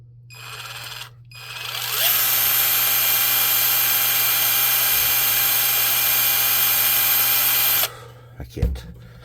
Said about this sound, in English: I'm going to try to use my drill to make my life a little easier